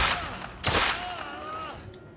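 A sharp, loud gunshot cracks out near the start in the PS4 video game The Order: 1886, followed by a fading electronic whine and low background noise.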